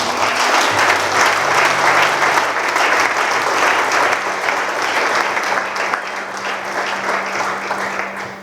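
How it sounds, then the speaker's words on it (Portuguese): A church congregation applauding together after a sung prayer, a steady, dense wash of clapping hands filling the room and holding evenly for several seconds, with a low sustained tone underneath. "Vamos aplaudir mais uma vez."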